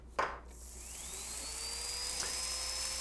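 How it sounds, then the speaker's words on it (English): A dental burr drill whines as it reduces a tooth on a Typodont, a thin high-pitched steady whir rising in pitch after a brief click, faint and close with no speech. "So first I'll do the reductions throughout the tooth using a burr from the artistic burr kit."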